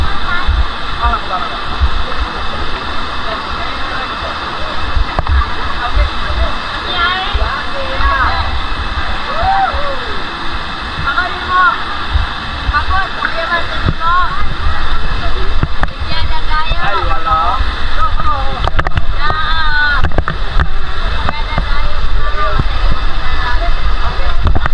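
A waterfall in Siquijor pours with a steady broadband rush, with wind buffeting and people talking intermittently over the roar.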